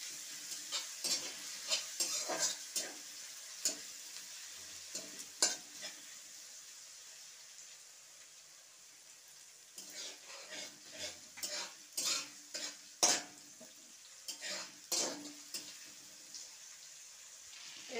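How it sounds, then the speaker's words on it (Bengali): Onions, garlic and spices being stirred in a hot frying pan, with repeated sharp scrapes and clinks of a utensil against the pan over a steady soft sizzle, close and fairly quiet, no talking. "রসুনটাও দিয়ে একটু ভালো করে মশলাটা নেড়ে নেব।"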